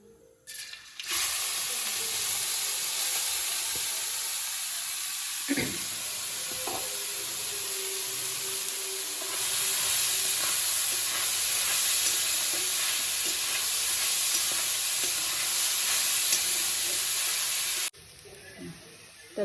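Grated carrot fries in hot ghee for gajar ka halwa, a steady loud sizzle and hiss with occasional scraping stirs against the pan, close by and continuous until it cuts off near the end.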